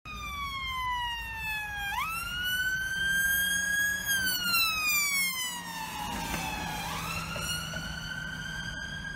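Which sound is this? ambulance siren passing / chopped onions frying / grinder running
ambulance siren passing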